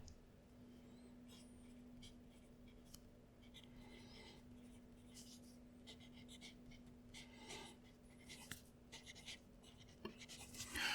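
Faint scratchy strokes of a fountain pen writing on paper with Colorverse Milky Way shimmer ink, soft and close, in irregular bursts over a low steady hum.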